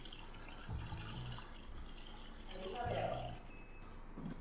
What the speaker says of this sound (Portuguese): Nesse mesmo momento que a água está descendo devagarinho ali.